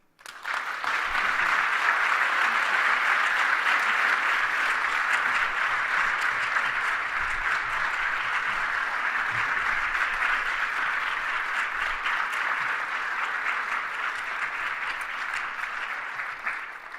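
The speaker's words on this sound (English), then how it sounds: "Can we please give her another round of applause?" Sustained applause from a lecture audience at a talk on race and social justice fills the hall, a dense, even wash of many hands clapping for well over fifteen seconds before thinning at the end.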